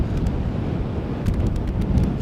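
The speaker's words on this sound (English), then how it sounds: "you're constantly in the wind over here" Strong wind buffets the microphone at Schiphol Airport on a cold day, producing a loud, continuous low rumble with gusty surges throughout and no talk.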